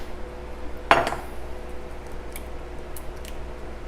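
Citrus pie filling mixed in a bowl, one sharp clink of utensil against the bowl followed by softer faint scraping and tapping, close up with no talking.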